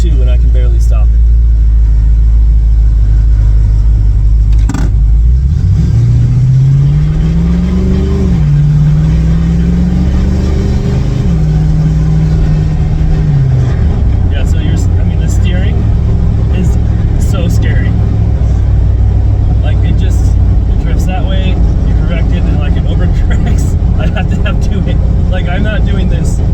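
Close, continuous drone of a Land Rover Defender 110 with an LS3 V8 on the road, revs rising and falling as it accelerates gently before settling into a steady cruise, with faint ticks and rattles over the top.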